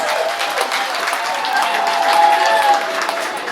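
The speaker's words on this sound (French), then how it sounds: "Qu'on applaudisse." Crowd applauding at a Bamendjou chieftaincy enthronement ceremony, a steady wash of many hands clapping with voices mixed in throughout.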